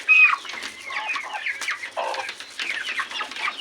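Free-range chickens cluck in a busy, overlapping chorus with short sharp calls and a few rising squawks, fairly close and continuous, with no talking.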